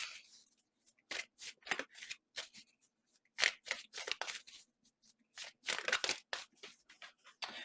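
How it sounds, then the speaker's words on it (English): Tarot cards are shuffled by hand at close range, producing quick runs of crisp flicking and riffling clicks in uneven bursts with brief pauses between them. "Can we get one more card to clarify this peace card for Aries?"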